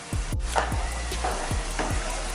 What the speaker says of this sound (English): we're just going to brown the ground beef